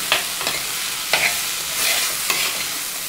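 Vegetables being stirred into masala in a pan for a home-cooked vegetable curry, with several distinct scraping strokes over a steady sizzle and no talking.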